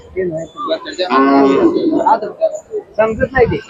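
A Khillar cow moos loudly and close at a cattle market, a long lowing call followed by shorter bellows, with voices nearby.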